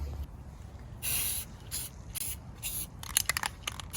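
Several short hissing bursts of spray paint on the inside of a Civic Type R part, separated by pauses, the last ones quicker and choppier, over a low background rumble.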